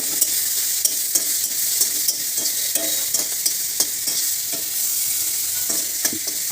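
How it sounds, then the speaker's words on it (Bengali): Salted hilsa fish fries in a pan with a steady, loud sizzle, broken by frequent scraping and clicking strokes as the pieces are stirred and turned. "তো আমি নোনা ইলিশগুলো একটু ভেজে নিচ্ছি।"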